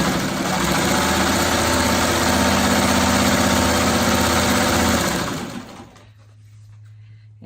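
A sewing machine stitching fabric pieces together, a loud steady whirring drone running for about five seconds before winding down to a low hum.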